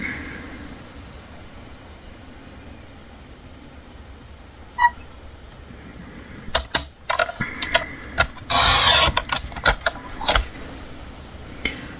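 Scissors or a blade cutting through a scrapbooking card background, heard as a cluster of crisp, close snips and rustles in the second half over a quiet room.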